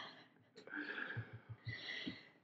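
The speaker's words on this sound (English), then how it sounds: "It's all the heavy breathing." Heavy, rapid breathing after eating spicy hot wings: sharp snorting inhales and gasping breaths in quick succession, close to the microphone, mixed with bits of voice.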